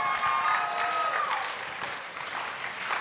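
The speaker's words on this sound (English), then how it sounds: "let's give our Markley community group a round of applause for that one." Steady audience applause at an all-campus gathering, a dense wash of many hands clapping at moderate distance, holding fairly even for a few seconds and easing slightly toward the end.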